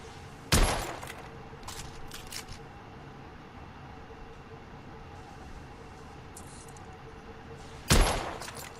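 Two sharp, loud gunshots from a period firearm in the Victorian-era shooter The Order: 1886, one near the start and one near the end, separated by a long stretch of low ambient game noise.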